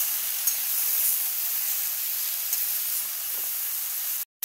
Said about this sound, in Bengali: এবার এটাই একটু নাড়িয়ে মশলার সাথে মিশিয়ে দেবো।